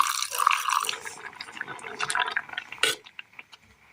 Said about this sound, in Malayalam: ഒരല്പം വെള്ളം കൂടി ഒഴിച്ചു കൊടുത്ത്